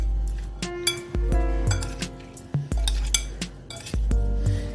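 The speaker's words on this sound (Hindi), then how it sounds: "अब इसको मैं स्पून से अच्छे से मिक्स कर लूँगी।" A spoon stirs potato chips mixed with egg in a bowl, making repeated clinks and scrapes against the dish in an uneven rhythm, close and fairly loud, with no voices.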